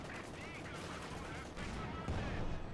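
Tank cannon fire with 75 mm high-explosive rounds in the Company of Heroes 2 strategy game, heard as a dense, continuous roar of battle explosions and gunfire with no clear gaps, rising louder toward the end.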